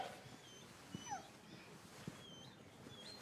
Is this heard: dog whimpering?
yes